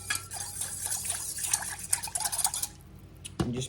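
Dressing poured over a fresh cucumber, tomato and onion salad in a bowl, a close liquid splash with spoon clinks and stirring sounds, ending in a brief knock.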